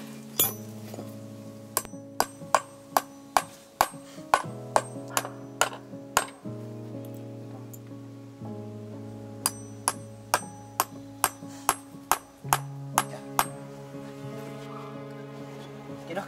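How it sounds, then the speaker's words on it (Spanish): A hammer drives nails into a wooden board in a series of sharp metallic strikes, irregular and clustered, ringing clearly over a sustained musical backdrop. "Quiero que claves estos clavos aquí en esta madera."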